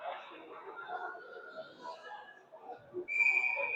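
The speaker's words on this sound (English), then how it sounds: "We got a whistle" Referee's whistle at a high school varsity hockey game between Providence Catholic and Mount Carmel, a sharp steady blast arriving near the end over crowd noise and a commentator's continuous play-by-play.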